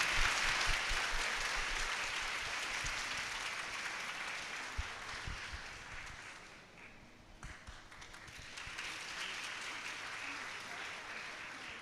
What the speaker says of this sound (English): let us welcome our beloved founder, chairman, and managing director of Foster DM Healthcare, Padma Shri Dr. Moopen, with a huge round of applause